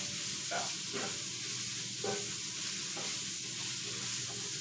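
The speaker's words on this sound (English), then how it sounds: "So we're gonna fry it." Cabbage frying in a pan for a soul food sauté gives a steady close sizzle, with a few soft stirring scrapes breaking through it.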